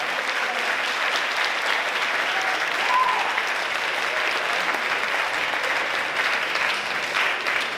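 A school audience gives steady, dense applause after a high school brass quintet performance, a broad wash of clapping that holds evenly throughout without speech.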